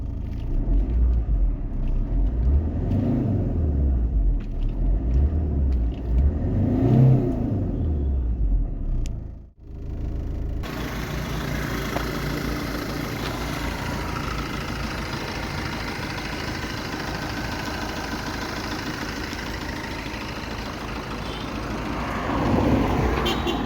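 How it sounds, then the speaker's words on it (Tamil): A Tata Manza diesel car engine runs at idle, a low throbbing rumble near the microphone with a few swells, then a sudden dip and shift to a steadier, broader mechanical hum that continues to the end. "இப்போ நம்ம இந்த காரோட இன்ஜின் சவுண்டை இந்த வீடியோவில் பார்ப்போம்"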